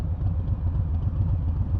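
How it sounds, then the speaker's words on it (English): A 2020 Harley-Davidson Low Rider S Softail motorcycle idling with a low, lumpy, pulsing rumble, steady and close, with no talk over it. "So I'm idling right now"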